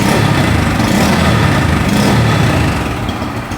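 A 2024 Bajaj Pulsar N160 motorcycle engine runs loud and close, holding a raised, rough roar that eases off slightly near the end, with no talking.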